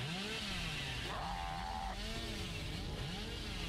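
Video game chainsaw engine droning steadily throughout, with rising and falling revs and a brief higher-pitched whine in the middle, no talk over it.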